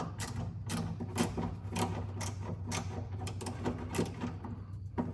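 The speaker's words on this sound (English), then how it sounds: "we're gonna go ahead and pull these two screws here out." Screws backed out of a 2015 Chevrolet Silverado during a reverse camera install, a quick series of close, crisp ratcheting clicks and small metallic taps repeating in a steady rhythm.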